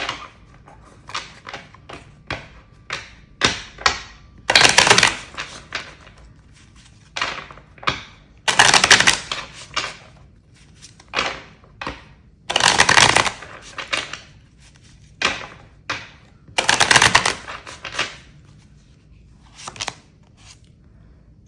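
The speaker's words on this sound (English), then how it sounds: "Do a good hard shuffle." Tarot cards being shuffled hard: a series of sharp card clicks and flicks, broken roughly every four seconds by louder riffling bursts, close and clear.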